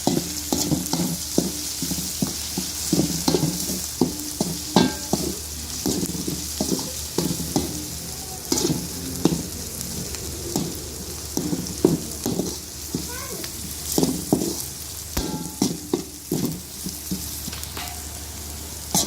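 Dried red chillies fry and get tossed in a pan of oil for mutton varakari, giving a steady close sizzle broken by repeated clattering tosses and stirs, with occasional voices over the cooking.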